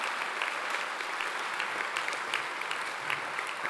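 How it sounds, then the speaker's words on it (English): Dense, sustained applause from a large audience at a university degree ceremony in Glasgow, a continuous hiss of many hands held at an even level throughout, slightly distant and hall-like. "She'll be really happy that you gave her a clap"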